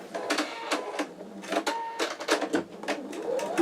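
An embroidery machine stitches an outline on fabric held in an 8x8 inch MagnaHoop magnetic hoop, giving a fast run of close, rhythmic mechanical stitching pulses with no talk.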